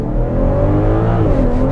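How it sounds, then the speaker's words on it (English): A 2022 BMW X5 sDrive40i's turbocharged engine pulls hard under launch control, a loud close drone with rising harmonics as revs climb, heard from inside the cabin. "it's going to build up the boost from that turbocharged engine. So it's building, launch control active"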